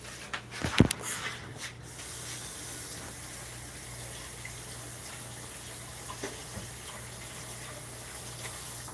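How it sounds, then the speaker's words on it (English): Tap water runs steadily to rinse off a bottle. A soft, continuous spray sits at close range, with a few clinks and knocks in the first two seconds and no talking. "Let me go ahead and rinse off the bottle."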